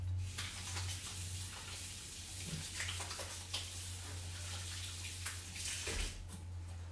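Tap water runs steadily over broccoli being washed in a kitchen sink, a continuous close hiss with a low hum beneath it and no talking.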